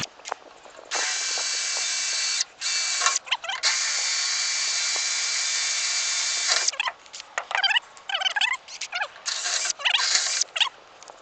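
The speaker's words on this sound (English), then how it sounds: "I'm going to start out with a smaller drill bit than I need and get it drilled out" A power drill with a small bit bores holes into a steel gooseneck trailer, long high whines stopping and restarting, then shorter bursts near the close, loud and close.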